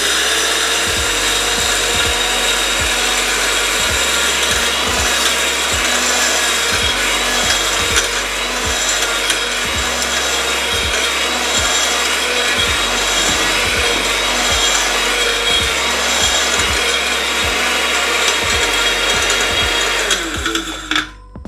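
An electric grinder crushes roasted spices for Jaffna curry powder, a loud, continuous rasping whir with regular rhythmic thumps of the mill, running close and steady before cutting off at the end, no talking.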